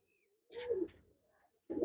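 Domestic pigeons give two low, throaty coos close by, one longer burst followed after a pause by a shorter one, with no voices.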